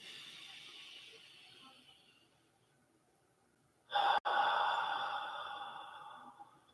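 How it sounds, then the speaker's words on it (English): Someone takes a deep breath during a breathing exercise, a close airy inhale that swells loud after a quiet pause and slowly fades, following a softer exhale. "We'll do one more. Breathing in."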